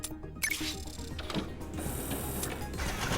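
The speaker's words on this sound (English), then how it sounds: "Grab the pill printer." A pill printer machine running in the Big Pharma video game, a steady mechanical whirring and clicking hum with light ratcheting ticks, moderately quiet and continuous.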